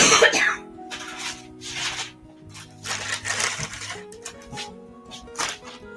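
Several coughs and throat-clearing bursts from a person indoors, spaced irregularly across a few seconds, close and moderately loud with brief pauses between.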